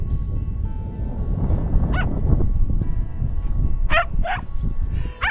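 Dogs on a wide beach bark and let out high whimpering yips, several sharp close calls over steady wind and surf rumble.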